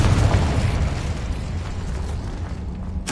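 The Incendio fire spell cast in Hogwarts Legacy produces a loud, roaring burst of flame that rumbles on with a broad, fiery wash and fades slightly before a fresh flare at the very end.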